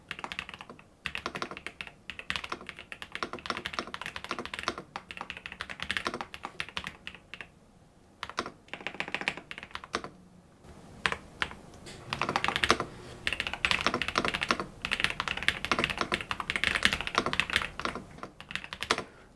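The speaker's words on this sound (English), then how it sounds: "So let's do a little type test here, and we'll see how it sounds." Typing on an Epomaker Dynatab 75x mechanical keyboard, a steady stream of close, deep clacking keystrokes in quick irregular runs, with a few brief pauses between bursts.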